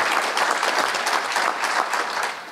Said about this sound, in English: Yes, another round of applause for him.